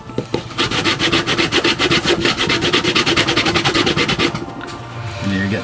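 Wood being scraped in a rainforest to make tinder, a steady run of rapid, rhythmic rasping strokes close up, loud and continuous, easing off briefly near the end.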